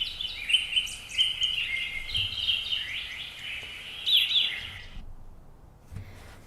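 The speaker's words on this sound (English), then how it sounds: "It only sounds like there's birds on the moon." Small birds chirp and twitter in quick, bright bursts, fairly close and continuous before cutting off abruptly toward the end, leaving faint low rumbles.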